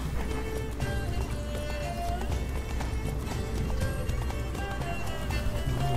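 Roach, Geralt's horse in The Witcher 3: Wild Hunt, gallops at speed, steady rhythmic hoofbeats running under a continuous dense layer of game music and ambience, with a brief neigh possible.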